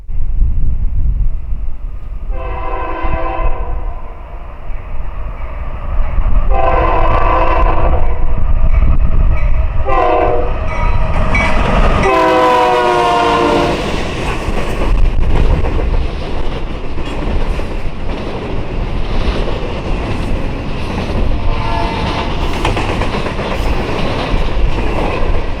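CSX freight train passing, with CN 3023 leading and UP 1111 trailing second: a loud horn sounds in several blasts, followed by steady rumbling and clattering of wagons close by, continuing to the end with no talk.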